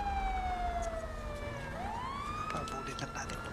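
A police car siren wails nearby, its rising and falling tone sweeping down and then back up over a background of low traffic rumble.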